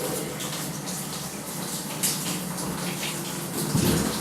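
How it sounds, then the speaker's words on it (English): Hot water pours steadily from a bathtub spout in a renovated bathroom, a continuous close, even rush that stays alone throughout. "as soon as the water's turned on, we have hot water coming out"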